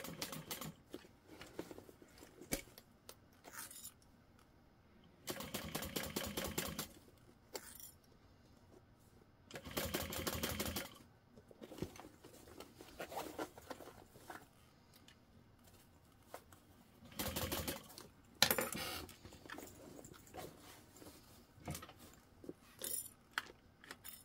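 A sewing machine stitches a medium-sized tote bag in several short, fast-rattling runs separated by quiet pauses filled with small clicks and handling noises, all fairly soft and close.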